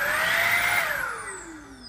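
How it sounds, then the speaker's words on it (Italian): A Xiaomi Mi Handheld cordless cyclonic vacuum cleaner running, a loud, high whine that rises and then winds down near the end, heard close and alone. "avete visto azionando l'aspirapolvere come funziona"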